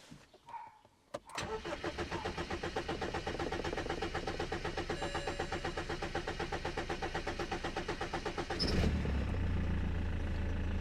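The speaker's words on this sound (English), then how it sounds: "Now let's try to start the car." A BMW E87 hatchback is started after a fuel filter replacement: a click, then a long steady starter crank with rhythmic churning for several seconds before the engine catches and settles into a low idle.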